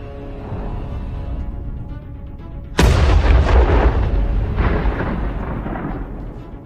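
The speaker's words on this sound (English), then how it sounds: "One shot, the ammo inside the vehicle explodes. A massive explosion." Ammunition inside a tank in a military convoy detonates in one massive explosion: a sudden, loud, deep boom that rolls on into a long rumbling roar after a low background drone.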